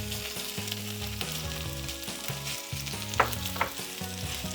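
Kimchi fried rice sizzles steadily in a hot pan while it is stirred and tossed, with a few sharper scrapes of the utensil against the pan near the end. The frying is close and moderately loud, with no one speaking.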